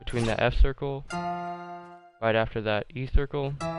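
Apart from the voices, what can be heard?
No everyday noise stands out behind the speech.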